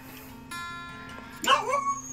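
A dog gives a short burst of yelping barks partway through, heard at moderate distance over a steady low background hum.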